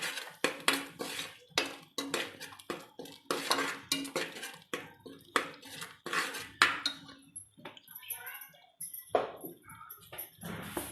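Metal spoon scraping and clanking against a pot while prawn biryani masala with chilli powder is stirred, a steady run of close, sharp knocks and scrapes in quick irregular rhythm with no talk.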